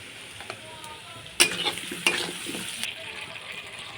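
Chopped onions with turmeric fry in a pan, giving a soft steady sizzle punctuated by a few louder spoon scrapes and clinks as they are stirred.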